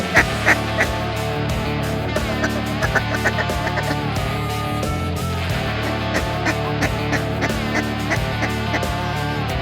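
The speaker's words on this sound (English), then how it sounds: "That was a little bunch of pintail mallard mix." A mixed flock of pintail and mallard ducks quacks busily in the open outdoors in Alberta, Canada, with dense overlapping calls that go on and on and some louder bursts close by.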